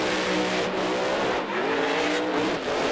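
A drag race car at an NMRA/NMCA event builds boost and revs its engine, a loud continuous roar with rising and falling pitch that holds steady through the whole stretch, with no talk over it.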